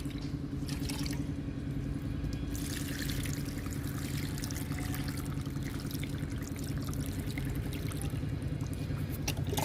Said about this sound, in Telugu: ఇప్పుడు ఈ మొక్కలకు కూడా వాటర్ ఇద్దాము